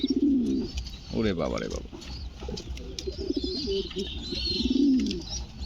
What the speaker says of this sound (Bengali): পায়রা চেতে গেছে, প্রচুর পরিমাণ চেত দেখাচ্ছে